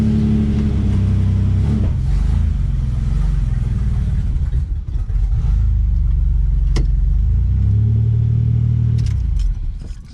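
A Buick project car's engine rumbling as it pulls out of a garage, a loud, close, low-pitched running sound that swells, dips briefly, then rises again with a few light clinks.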